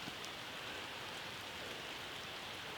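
Rain during a wild camp, heard from inside a tent, makes a faint, steady, even patter with a soft hiss that carries on unbroken and without speech.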